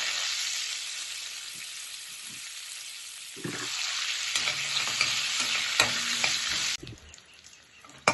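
Onion and eggplant sautéing with salt in sesame oil, a bright steady sizzle with scraping stirs that swells louder midway then drops away near the end, close up and with no voices.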